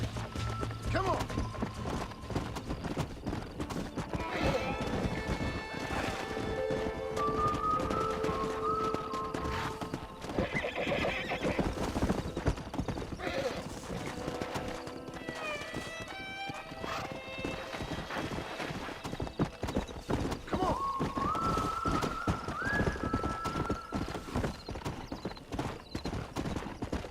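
Horses in the Red Dead Redemption video game whinny and neigh, with hooves clip-clopping in a steady rhythm and game music and ambience underneath, alongside spoken dialogue.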